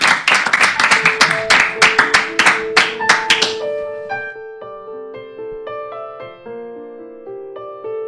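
An audience claps in a loft music radio session, a short burst of applause that fades as a live band starts playing sustained notes.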